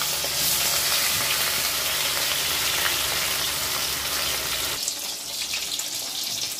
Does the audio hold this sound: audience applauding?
no